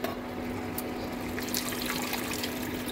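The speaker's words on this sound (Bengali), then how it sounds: "জল আমি এর মধ্যে দিয়ে দিলাম, আর একটু জল অ্যাড করবো" Water pours steadily into a pan while making a pointed gourd curry, a close continuous trickling splash with no talk.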